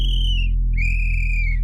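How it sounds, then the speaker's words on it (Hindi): A night watchman's whistle sounds in a horror story as two shrill, steady blasts, the second longer, loud and close over a constant low hum. "जैसे ही चौकीदार सीटी बजाता है उसके बाद यश भी बजा देता है"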